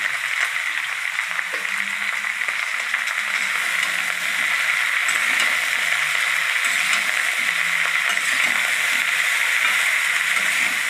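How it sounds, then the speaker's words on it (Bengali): Taro stolons (kochur loti) frying in a pan with turmeric and salt, giving a steady, loud, continuous sizzling hiss throughout with no talking. "এবারে এই কটা সুন্দর করে ভেজে নিই।"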